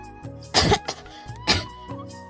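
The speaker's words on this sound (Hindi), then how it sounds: "उससे रह रहकर बहुत खांसी होती है" A woman gives two sharp, loud coughs about a second apart, each a harsh broadband burst, with quieter breathy sounds between them.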